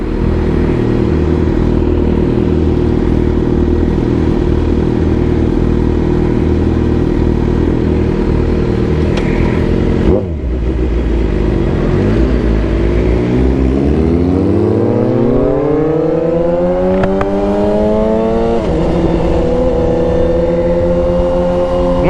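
A Suzuki GSX-R 750 sport motorcycle engine runs loud and close, droning steadily at first. After a brief dip it rises in a long revving climb, then settles back to a high, even note.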